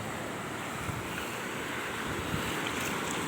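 Ocean waves wash onto a sandy beach in a steady, broad roar of surf mixed with wind, close and constant throughout with no talk.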